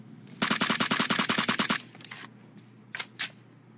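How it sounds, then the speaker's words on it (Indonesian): Rapid automatic gunfire aimed at jeep tyres in a battle royale video game, a burst of about a dozen sharp shots, then a couple of separate single shots after a pause, close and loud. "Tembak tayar jeep dia Mira."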